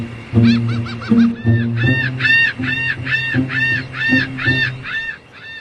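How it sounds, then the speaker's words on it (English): Loud, repeated bird calls from gulls harassing sailors at a naval base, a rapid series of harsh, honking cries in close succession with no talk. "They're at the mercy of seagull strafing runs."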